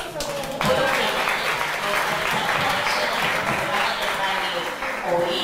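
Applause at a Spanish school radio programme, a dense, loud burst of many hands clapping that carries on steadily for several seconds and eases slightly near the end.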